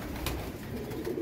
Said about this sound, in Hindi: कबूतर बड़े सारे हैं